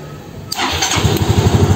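A Yamaha Xeon RC scooter with a scorched starter relay contact cranks briefly, then its engine catches and runs with a steady low pulsing idle, close and fairly loud.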